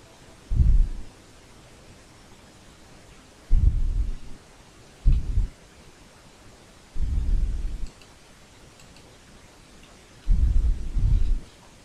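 Low, booming rumbles come in five separate bursts with quiet gaps between them, thunder from a storm in a video game.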